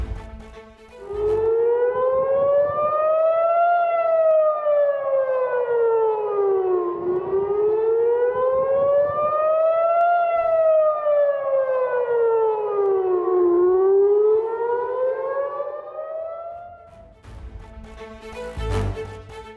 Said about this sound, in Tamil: இஸ்ரேலின் ஜெருசலேம் நகரில் போர் அபாய எச்சரிக்கை சைரன் தொடர்ந்து ஒலித்தது.